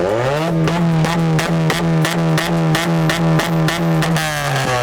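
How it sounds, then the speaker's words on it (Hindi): A Honda Civic with a D15B engine revs through its exhaust system at an auto show, giving a loud, steady, close engine drone with a rapid pulsing rhythm and no talk over it. "तो इसकी तरह हमें आवाज तो सुना दे अपने एग्जॉस्ट सिस्टम की।"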